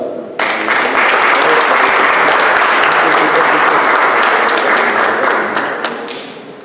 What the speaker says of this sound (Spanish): Recibamos con un fuerte voto de aplausos.